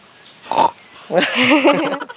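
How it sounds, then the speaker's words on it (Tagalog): A pig oinks as a sound effect: a short grunt followed by a longer nasal squealing oink, loud and close, with nothing else heard. "At ang sounds na gagamitin nyo ay tunog ng baboy. Oink, oink, oink."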